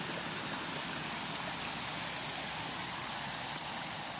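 Steady rushing water in a farm garden, like a small waterfall pouring continuously at close range, with no voices.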